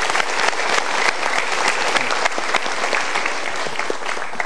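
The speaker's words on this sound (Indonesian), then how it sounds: "kita berikan tepuk tangan." Steady audience applause from a studio crowd at a motivational talk show, continuous dense clapping filling the whole stretch.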